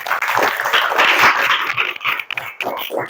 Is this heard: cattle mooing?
no